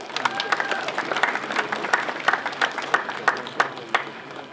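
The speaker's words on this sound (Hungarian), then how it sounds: "Tapsoljuk meg őt!" Steady applause from a school graduation audience honouring a vocational carpentry student, with dense clapping sustained evenly for several seconds and no voices over it.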